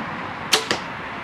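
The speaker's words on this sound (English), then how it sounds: "you can hear when I'm shooting, this bow is not making hardly any noise at all" A Bear Motive 7 compound bow from 2013 fires an arrow: two quick, soft whooshing snaps close together, faint and near, against a quiet background.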